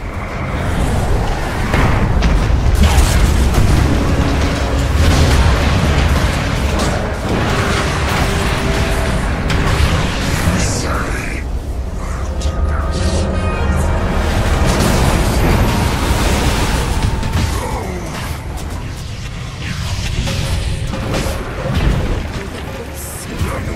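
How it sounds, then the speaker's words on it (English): A Dota 2 middle tower collapsing during a match: a dense, loud rumble of crashing, booming destruction and battle effects sustained for over twenty seconds, with no clear pauses. "Radiant's middle tower is under attack. Radiant's middle tower has fallen."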